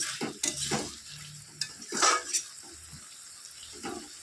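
Mixed vegetables cooking in a pan, stirred with a spoon in short scraping bursts over a faint sizzle, close-up and fairly quiet, with brief splashy clatter.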